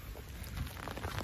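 Rain falls steadily on an outdoor location, a close, dense patter and hiss with no voices.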